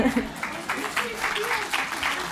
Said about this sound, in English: give me lots of applause